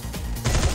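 MP40 submachine gun fire in the Free Fire video game, a short, loud burst of rapid shots that swells sharply partway through and cuts off, with no voices.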